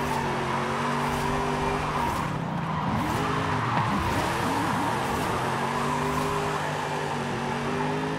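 Car drifting on semi-slick tires in Forza Horizon 5, a steady engine drone with rising and falling revs and continuous tire squeal and skidding, loud and close throughout with no talk.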